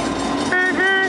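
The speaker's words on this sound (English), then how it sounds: "we thought we'd probably better not do that because there's a goddamn train coming." A big train rolls past in Greymouth, its rumbling wagons joined by two loud, close blasts of the horn in quick succession.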